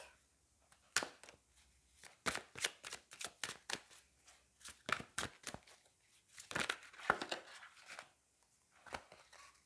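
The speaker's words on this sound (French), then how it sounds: "on va prendre 4 cartes et je vais aller tirer les 4 de la magie verte" Tarot cards drawn and handled one after another, giving a run of sharp, close slaps and crisp shuffling flicks in uneven bursts, with brief pauses between.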